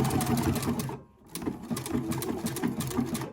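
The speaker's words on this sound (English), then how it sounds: "So I'm just going to use my regular zigzag, but the foot is away from the hooks so that I don't risk hitting the hardware on the inside." A sewing machine running a zigzag stitch on a bralette, a fast close mechanical whirring rattle that stops briefly for about a quarter second, then resumes steadily.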